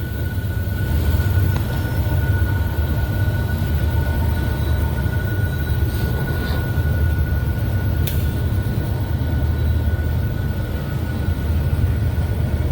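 A grain train works hard up a steep grade with its rails being sanded, a loud continuous low rumble and drone with a steady tonal whine and occasional metallic squeal, heard from nearby with no talking.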